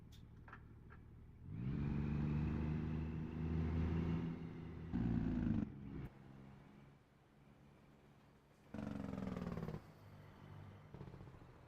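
A car engine in a driving video game drones at a steady pitch, then cuts out and returns in separate loud blocks with brief quiet gaps, the engine sound noted as faulty and glitchy.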